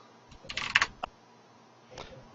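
Computer keyboard typing close by, a quick burst of several clustered keystrokes, then a single tap and a lone press after a pause, with no talk.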